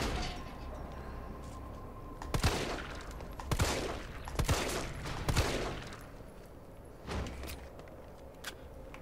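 Gunfire in the video game Resident Evil 3: several sharp, loud shots ring out in uneven bursts over a quiet background hum, spaced a second or so apart.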